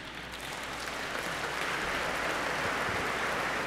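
Congregation applauding during a solemn feast-day mass for Saint Anne, a dense, even crackle of many hands clapping that carries steadily throughout, moderately distant with no speech over it.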